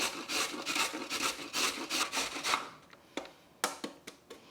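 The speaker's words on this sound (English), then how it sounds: "let's finally grate our carrot." A carrot rubbed against a hand grater in a home kitchen while gluten-free broccoli cheese soup is prepared, giving a fast run of rasping strokes that then slows into a few separate scrapes, close and fairly quiet.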